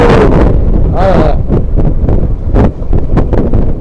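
Strong wind at sea buffeting the microphone aboard a fishing boat in high waves, a loud continuous roar and rumble throughout while someone speaks close over it.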